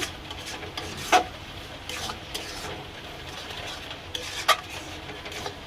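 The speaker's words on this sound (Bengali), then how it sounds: "মশলার মধ্যে আমি ডিম দিয়ে দিয়েছি, দিয়ে এটাকে ভালো করে নেড়ে চেড়ে নেব।" Eggs being stirred into a spice mixture in a pan, heard as soft scraping and rubbing strokes with a couple of sharper utensil clinks against the pan.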